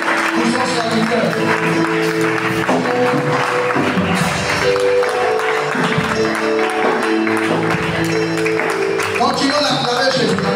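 Steady clapping from a church congregation acclaiming Jesus runs underneath music with sustained tones and raised voices, continuing at even loudness throughout.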